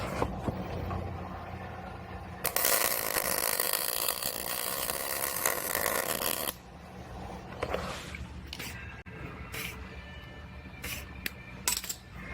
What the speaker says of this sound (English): I'm gonna go ahead and put a couple welds in with this on there